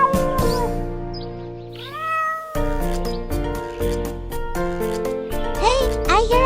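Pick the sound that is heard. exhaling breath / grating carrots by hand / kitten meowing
kitten meowing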